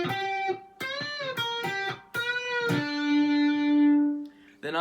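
Electric guitar playing a riff: clean distorted-edged notes in short phrases with a bend, ending on a long sustained note, alone and close.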